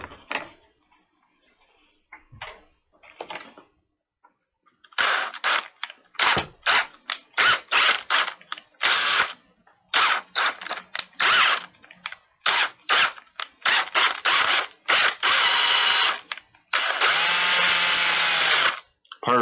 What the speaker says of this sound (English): So we got 4 holes drilled.